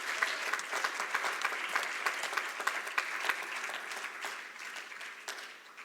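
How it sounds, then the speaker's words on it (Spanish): Audience applause at a church service, dense steady clapping from many hands, moderately loud and sustained throughout with no voices on top, tapering slightly at the end. "¿Cuántos pueden darle palmas a nuestro Dios con gozo,"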